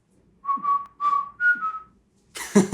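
Someone whistles a short tune, three or four clear sustained notes, then a burst of noisy sound cuts in at the end.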